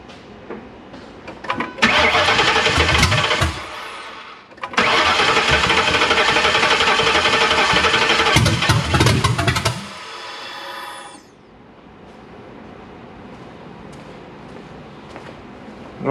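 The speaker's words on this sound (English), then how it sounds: "I don't have a jump box right now because the battery is turning the starter, but maybe I always had a jump box" A Ford 7.3L Godzilla V8 swapped into a Crown Vic cranks on a jump box, the starter churns in two loud bursts, then the engine catches, roars and settles into a quieter idle.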